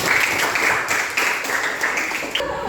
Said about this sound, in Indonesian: Tepuk tangan untuk kita berdua.